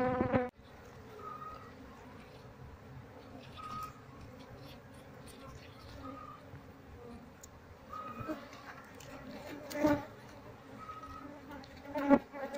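Bees buzzing around a hive box in a steady, dense drone close by, with the hum swelling louder now and then as insects pass near.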